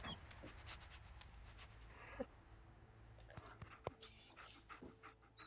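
A dog in the video game Fallout 4 pants quietly in quick, rhythmic breaths, faint and close, with a few small clicks and rustles in the background.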